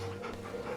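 A dog pants while being petted in Final Fantasy XVI, quick close breathy huffs in a short rhythmic burst.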